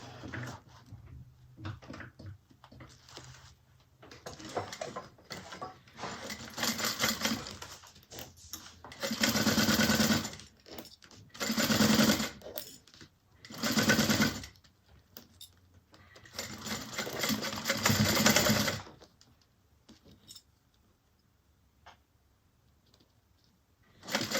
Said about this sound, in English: Now we're going to sew this up 3/8.